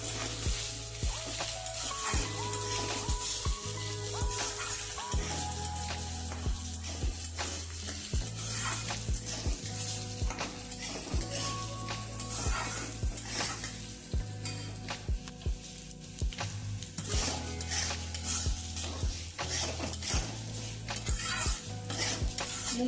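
Mung and masoor dal fry and get stirred in a pan, giving a steady, fairly loud sizzle broken by repeated scraping strokes and clinks of a spoon against the pan for over twenty seconds, with no voices.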